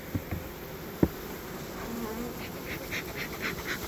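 Dense, steady buzzing of many Carpathian honeybees close by in a hive, with a couple of faint knocks and a few brief higher-pitched buzzes passing near.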